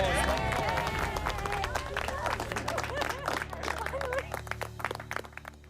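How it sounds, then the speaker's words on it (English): A crowd claps in a burst of applause on the TV cooking competition MasterChef Australia, with scattered cheers and voices mixed in, the clapping dense at first and thinning toward the end. "Give yourselves a round of applause."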